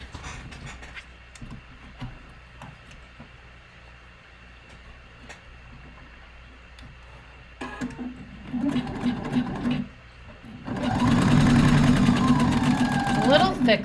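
A sewing machine sews over a thick layer of fabric during a sewing workshop, its motor whirring faintly at first and then growing louder and denser toward the end.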